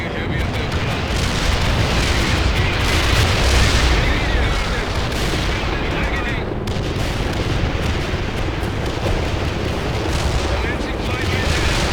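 Dense, booming artillery strike explosions in the war game World in Conflict roll loudly and continuously, layered with crackling blasts, with game voices faintly mixed in beneath the barrage.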